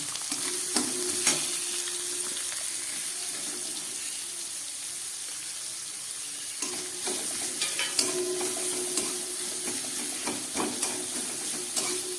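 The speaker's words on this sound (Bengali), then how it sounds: "এই তেলের মধ্যে আমি এভাবে কেটে রাখা পেঁয়াজটা দিয়ে দিলাম" Chopped onion fries in hot oil with a continuous loud hiss and sizzle, broken by scraping stirs and a few sharper bursts.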